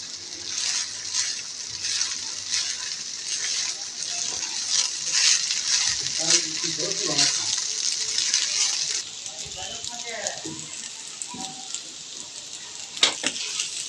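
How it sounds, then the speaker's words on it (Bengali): Boiled rice frying in ghee for colourful zarda gives a continuous crackling sizzle, with intermittent stirring scrapes, and grows quieter near the end. "ভাতগুলো দেওয়ার পর ঘিয়ের সাথে সামান্য একটু ভেজে নেব।"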